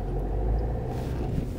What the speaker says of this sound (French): on accélère et on redémarre